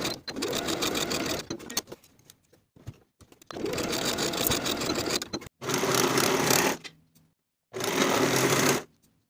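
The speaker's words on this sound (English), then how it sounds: "Sew the shoulder seams with a 3/8 inch seam allowance" A sewing machine stitching dress shoulder seams, running in long steady whirring bursts of a few seconds each, separated by short pauses, close and loud.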